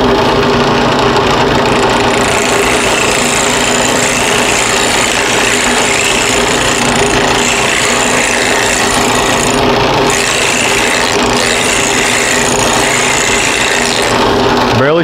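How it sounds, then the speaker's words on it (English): A safety planer shaves rough lumber flat for guitar building, a loud continuous rasping whir with grinding texture and an engine-like drone, close and unbroken throughout. "this is the safety planer right here. This is it. This is the tool I was talking about."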